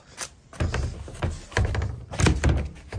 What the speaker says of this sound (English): this door's frozen shut